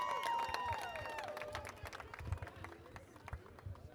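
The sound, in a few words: crowd applause for drift team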